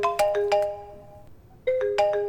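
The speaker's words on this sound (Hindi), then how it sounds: "Some bad guy is calling." A mobile phone ringtone for an incoming call plays a bright, repeating electronic melody in two bursts separated by a short quieter gap, loud and close with no talking over it.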